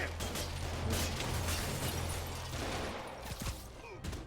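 Gunfire rattles in Marvel's Spider-Man: rapid bursts of shots from thugs, fairly loud and mixed with scuffling combat noise, easing off toward the end.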